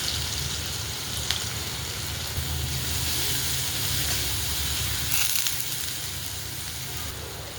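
Garlic and green chilies hit hot oil in a pan, giving a steady, even sizzle and hiss that runs unbroken throughout, close and fairly loud, with no talking.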